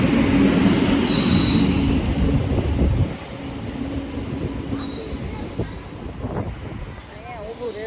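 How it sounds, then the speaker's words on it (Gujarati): Train carriages rumbling past at a station, wheels squealing and metal grinding loudly at first, then easing into a lighter clatter as the train slows, with people faintly talking in the background. "હવે ટ્રેનમાં પાછું બેસી જાય"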